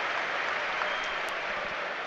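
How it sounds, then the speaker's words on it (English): Grimsby Town fans applauding their team at an FA Cup match away at Brighton & Hove Albion, a steady, broad wash of distant stadium clapping that carries evenly and unbroken throughout. "They want to stay and applaud their team, who've been magnificent through this run."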